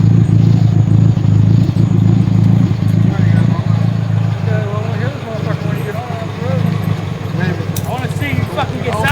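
A Nissan 240SX's exhaust drones loud and steady up close, a deep, even engine note that softens partway through as people start talking over it.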